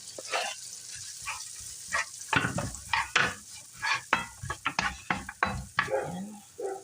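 Butter, onion and garlic sizzle softly in a pan for a tuna carbonara while a utensil stirs them, giving a quiet run of irregular scraping clatters over a low frying hiss.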